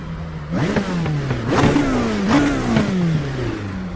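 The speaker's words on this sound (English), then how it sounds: "It does sound nice. It's got a V8 engine." A V8 race car engine in the iRacing simulator revs up and down in repeated surges, with upshifts and pitch climbs, loud and close with no talking.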